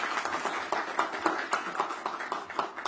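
Participants at a youth policy ministers' meeting give a round of clapping, a moderate crowd of hands producing quick, rhythmic pats that pulse steadily and fairly close throughout.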